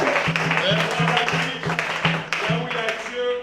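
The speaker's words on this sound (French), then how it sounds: "Est-ce que tu peux applaudir pour notre Seigneur?" A church congregation claps in rhythm during a deliverance service, regular beats mixed with voices singing or calling out, fairly loud and close.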